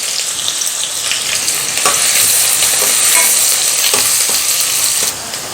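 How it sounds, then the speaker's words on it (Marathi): Onion frying in hot oil with curry leaves makes a loud, steady sizzle close by. Occasional scraping stirs break it before it drops slightly near the end. "आता कांदा घालूया आणि कांदा छान गुलाबी लालसर होईपर्यंत भाजून घेऊयात"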